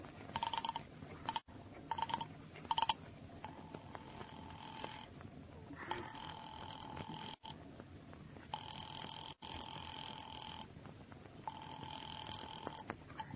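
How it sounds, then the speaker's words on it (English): Telephone ringing on the line as a radio drama sound effect while a call is put through to the police department: repeated bursts of a steady tone with short gaps, clear and alone, old-time narrow-band sound. "Ringing the police department."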